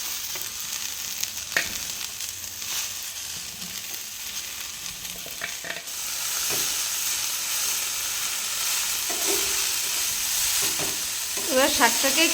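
Methi greens fry in a pan with steady sizzling while a utensil stirs and scrapes them at intervals, close and fairly loud, with no talking.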